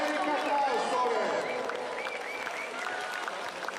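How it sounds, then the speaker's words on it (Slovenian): Spectators at the 16th Ljubljana Marathon clap and cheer in a continuous, moderately faint patter, with an announcer's voice and crowd chatter running over it. "En velik aplavz torej za vse nastopajoče na 16. ljubljanskem maratonu."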